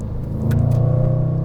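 A Range Rover Sport SVR engine in dynamic mode gives a deep, steady rumble that swells and rises in volume partway through, held loud and close with no voices.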